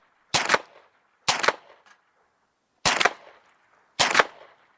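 Gunfire from a firearm fed by a 50-round magazine: four sharp, loud shots spaced unevenly about a second apart, each with a short decaying echo, with no talking.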